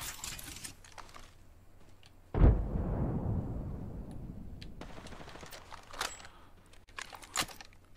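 A frag grenade in Apex Legends bursts with a sudden loud boom that trails off into a rumbling decay, surrounded by quiet clicking and tapping.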